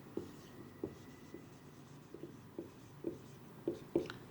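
Hand writing on paper while working out an inventory purchase price, with faint scratchy pen strokes and small ticks recurring at a steady pace, quiet and close.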